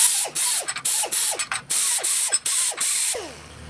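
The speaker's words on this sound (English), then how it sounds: "we're going to just take 80 grit on a little grinder and clean up the edges" A small grinder with an 80-grit abrasive deburrs the metal edges of hole punch parts in about eight short, loud bursts, each harsh grind ending as the motor whine drops off between passes.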